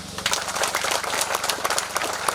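An audience claps at a groundbreaking ceremony for a solar power plant in a village in Sumba Tengah, a dense, continuous patter of many hands, moderately near and steady throughout.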